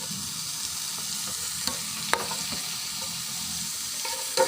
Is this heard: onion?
yes